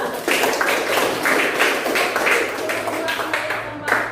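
Classroom audience clapping for a presenting student group, a run of uneven, overlapping claps with a faint steady hum underneath, fairly close and moderately loud, trailing off near the end.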